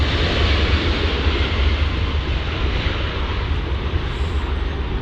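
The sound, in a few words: McDonnell Douglas MD-11 airliner passing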